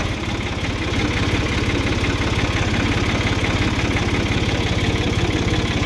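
A Ford 2600 tractor engine, running for the first time in years, idles close by with a steady, throbbing low chug that keeps an even rhythm and constant loudness throughout.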